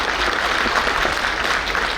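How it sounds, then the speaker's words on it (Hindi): Loud, dense audience applause at a Delhi government event, a continuous wash of clapping heard alone across the whole stretch. "एक बार मैं चाहता हूँ जोरदार तालियों से स्वागत और अभिनंदन, तालियां जरा जोर से बजनी चाहिए।"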